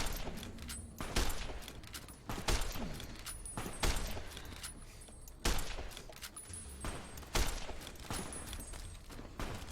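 Energy weapon fire in Fallout New Vegas, a series of loud sharp blasts at irregular intervals, each with a short crackling tail over a busy game background.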